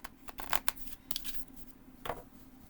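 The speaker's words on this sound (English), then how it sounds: "let's go ahead and do a shuffle" Tarot cards being shuffled by hand, a few soft riffling and sliding bursts with brief pauses between, close and fairly quiet.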